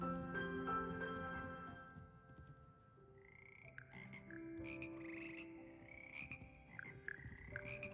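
Frog choir in Hogwarts Legacy croaking in a steady layered chorus, sustained tones and rising croaks stacking over one another at a moderate, close level with no talk.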